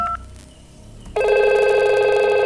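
IP phone ringing on a VoIP call, a bright electronic ring that starts abruptly after a quiet moment and continues steadily, loud and close with no talk.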